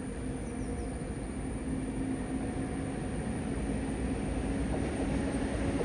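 A train runs through Manjeshwar railway station in Kerala without stopping, passing on a green signal, as a steady rolling rumble of wheels and wagons that stays even throughout, with no talking.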